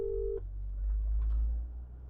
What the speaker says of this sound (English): I'm going to give Chris a call and just ask him if it's dry.